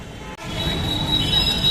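Bus pulling into a petrol pump on the Siuri–Katwa route, its brakes giving a loud, sustained high squeal over a heavy engine rumble, close by.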